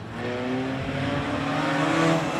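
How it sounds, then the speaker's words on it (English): Race cars roaring away at the start of a race, a dense loud engine rumble that builds steadily across the short stretch with layered overlapping engine tones. "You'll hear those cars roar to life."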